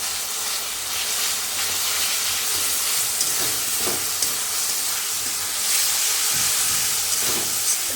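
Ginger-garlic paste hits hot oil in a pan while chicken is being cooked, giving a loud, continuous sizzle and hiss that holds steady throughout, with occasional crackles and no talking.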